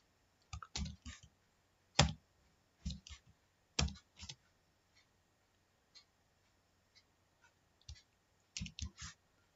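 Name being typed on a computer keyboard while entering input into a QBASIC program, heard as irregular bursts of close clicking keystrokes separated by short pauses.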